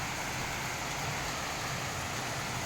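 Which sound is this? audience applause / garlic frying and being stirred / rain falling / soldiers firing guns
rain falling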